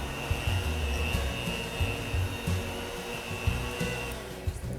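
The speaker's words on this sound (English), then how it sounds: "Just quickly stop my mixer." An electric mixer churns pumpkin spice cookie dough in a home kitchen, a steady close whirring drone with a thin high whine, running continuously with small bumps as the beaters work through the dough.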